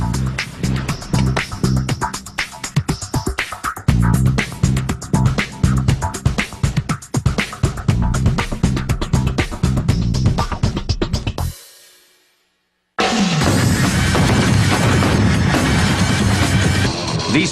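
Matchlock muskets fire at targets about 50 feet away, a run of loud cracks and booms packed closely together, then a brief silence before another heavy volley.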